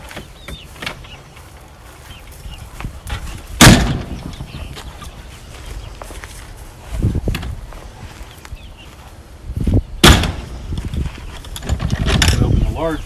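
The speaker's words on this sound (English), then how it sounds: "we open the large doors." Large wooden doors on a custom chicken coop are swung open, giving a few loud thunks, creaks and latch rattles spread through the clip, with faint background noise between them.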